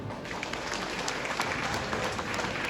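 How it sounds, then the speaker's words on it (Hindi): A seated crowd applauds at a strike rally on the final day of a strike, dense steady clapping that fills the whole moment without a break, moderately loud and close. "सब जम्मो सामने जब तक बैठे हैं एक बार मैं तालियां चाहूँगा।"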